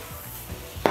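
Salt yakisoba noodles with pork belly and onion are being stirred in a pan, with a few soft thuds and then one sharp utensil clack against the pan, close and brief, without speech.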